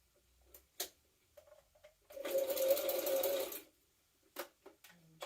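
A sewing machine stitching a bulky jumpsuit tab, running in a single short burst of about a second and a half, close and fairly loud, with scattered clicks and handling sounds from the fabric before and after.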